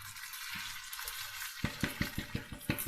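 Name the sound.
washed rice added onto frying orzo vermicelli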